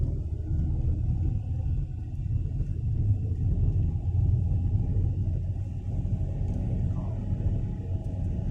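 A car climbs a steep, narrow mountain shortcut road toward Mae Kampong, Thailand, heard as a continuous low engine and road rumble from inside the cabin, steady and fairly loud throughout, with no talking.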